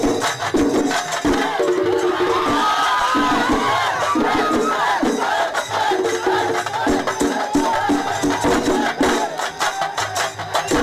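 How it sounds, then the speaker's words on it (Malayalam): Dense festival crowd roaring and shouting at Malanada temple in Poruvazhi, Kollam, Kerala, the only Duryodhana temple in South India, a continuous loud wall of massed voices with rising cheers throughout. "എങ്ങും ആരവങ്ങൾ മുഴങ്ങി."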